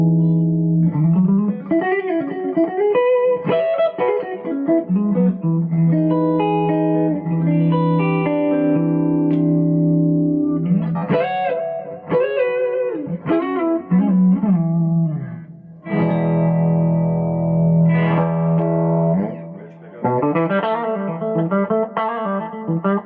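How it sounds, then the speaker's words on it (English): Electric guitar played through a Goodsell Custom V6 amp with noticeable reverb, sustained chords and melodic phrases ringing out and trailing off, loud and close, no talking. "Reverb of the amp that we're hearing right now."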